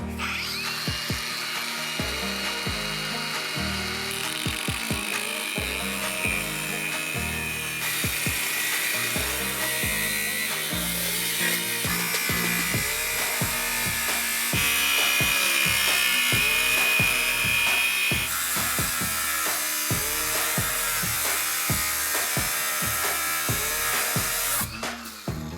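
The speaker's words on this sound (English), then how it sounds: "I'll just cut that bar out." A power tool cuts a metal bar out for gusseting on a King Cooper, a loud, sustained whining cut with rapid chattering pulses that continues steadily without pause, close and alone.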